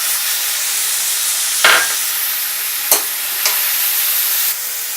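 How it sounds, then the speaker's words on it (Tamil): Food sautéing and being stirred in a hot pan during egg chapathi preparation: a steady sizzle throughout, with a few sharp scrapes and clinks of the utensil, no talk. "ஷார்ட்டாக ஃபாஸ்ட்டாக சீக்கிரமாக டக்கு டக்குன்னு வதக்கணும்"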